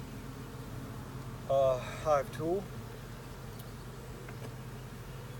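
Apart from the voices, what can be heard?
swarm of honey bees buzzing in trap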